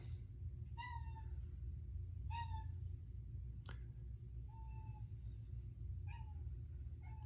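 A noisy pet cat meows five or six times in short, clear calls spaced about a second apart, close by over a steady low hum, with no one talking.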